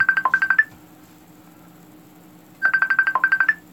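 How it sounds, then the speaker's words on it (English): A phone ringtone for an incoming call plays in two clear bursts of rapid repeated electronic tones, separated by a quiet gap, loud and close with no talk. "Alright, he's calling me back."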